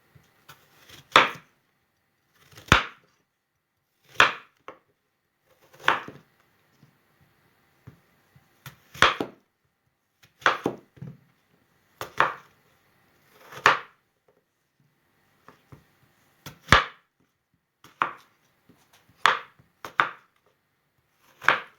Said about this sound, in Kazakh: Енді алманы тураймын.